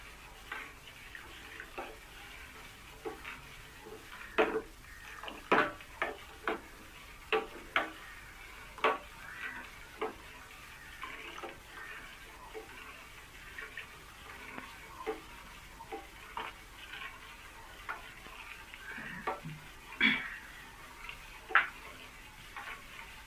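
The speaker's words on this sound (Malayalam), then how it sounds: "ഇതൊരു 3-4 മിനിറ്റ് ഇളക്കണം." A spoon stirs badam milkshake mixture in a pot while liquid is poured in slowly, giving a steady series of scattered clinks and scrapes over a soft watery swish for a long stretch, with no talking.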